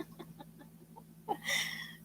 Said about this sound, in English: She's an Indian ringneck